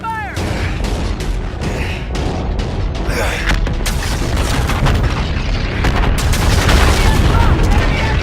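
Naval battle in a video game, with heavy gunfire and deep booming explosions rumbling continuously and loudly, building toward the end.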